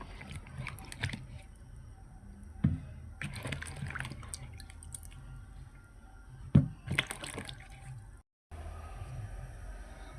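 An eggplant is rinsed by hand in a bowl of water in a home kitchen, with soft sloshing and a few sharper splashes near the start and middle, close and moderately loud, ending in a brief silence.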